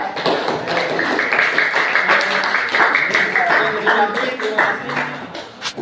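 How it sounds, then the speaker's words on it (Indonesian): Steady crowd applause for a group presentation, with scattered taps and claps, mixed with murmuring voices throughout, fairly loud and sustained for several seconds. "Tepuk tangan untuk kelompok 2."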